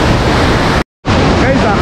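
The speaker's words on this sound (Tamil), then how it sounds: "அந்த மாதிரி ஒரு ஃபால்ஸ் ரொம்ப பியூட்டிஃபுல்லாக இருக்குது. பட் நல்ல டேஞ்சரஸான ஃபால்ஸ்." Rushing water at Marmala waterfall near Teekoy roars loud and close as a constant broadband wash, cutting out completely for a brief moment before resuming.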